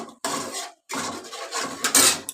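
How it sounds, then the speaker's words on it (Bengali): Paneer coated in tomato sauce is stirred in a pan: close scraping and rubbing strokes come in three bursts separated by short pauses. "এবার আমি এগুলোকে একটু নেড়ে নেব"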